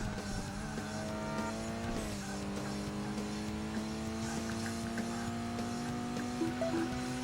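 A car races in the video game Burnout on PlayStation 2, its engine holding a steady, sustained drone with rising and falling pitch sweeps, continuous and fairly loud throughout.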